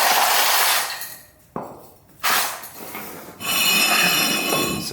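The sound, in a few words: tapping a wheel hub onto new lug studs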